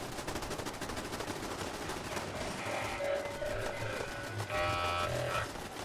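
Rapid gunfire in the game Fallout 4, repeated machine-gun bursts and single shots rattling steadily, with mid-distance battle sounds behind.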